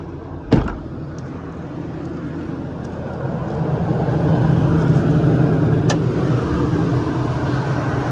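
A 2019 Ford F550 diesel truck starts with a sharp crank, then settles into a steady, rumbling idle that grows a little louder and fuller, close by, with no voices.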